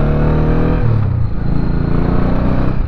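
A Honda Shadow motorcycle fitted with dirt bike handlebars, its engine running loud and close with a steady throbbing idle and a slight rev, the throttle sticking.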